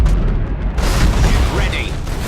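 A starship explodes in the space strategy game Battlefleet Gothic Armada 2, a loud, sustained low rumbling boom that swells and rolls on for a couple of seconds with crackling debris above.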